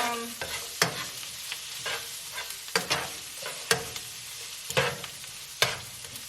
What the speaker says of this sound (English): So this is, I'm adding it to the onion, to the sauteed onions.